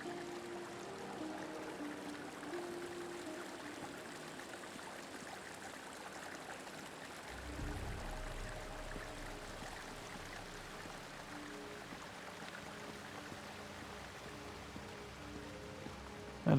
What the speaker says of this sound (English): So by combining those two, I've made an 8 ways fountain.